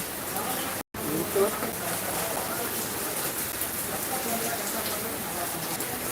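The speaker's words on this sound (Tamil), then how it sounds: "திடீர்னு மழை பெய்யுது" Rain suddenly pouring down outdoors in Pollachi, a dense, steady hiss of drops hitting surfaces that runs almost unbroken after a brief cut near the start, fairly loud and close.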